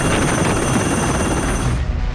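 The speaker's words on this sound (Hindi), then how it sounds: "एक इंसान के लिए छत पर उतारा हेलीकॉप्टर।" A rescue helicopter comes down onto a rooftop during severe flood rescues in Gujarat, its loud, dense rotor and engine roar filling the scene close by before cutting away abruptly near the end.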